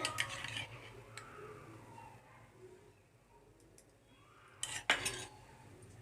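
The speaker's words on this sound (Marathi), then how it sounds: "इथे मी मिल्क पावडर घातली आणि व्यवस्थित असं मिक्स करून घेतलं परत मी आता थोडंसं एक चमच्यावर तूप घालून घेते" A spoon scrapes and clinks against a metal pan while stirring ghee into a mango puran filling, with quiet soft mixing between sharp taps at the start and a cluster of louder clinks near the end.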